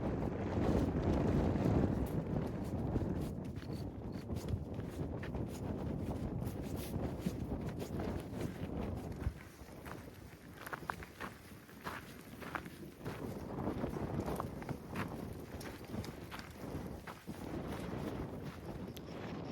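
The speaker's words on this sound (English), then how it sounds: "So this wind has been so strong just walking across here." Strong gusty wind buffets the microphone in a steady roar, with crunching footsteps of a hiker moving through it on the Continental Divide Trail.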